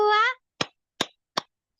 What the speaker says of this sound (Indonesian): Jadi hanya tepuk tangan aja.